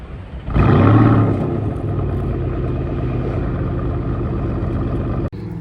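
A 2025 Porsche Cayenne GTS V8 with sport exhaust roars up loudly, then holds a rumbling, burbling idle with steady exhaust pulses close by, ending with a brief click.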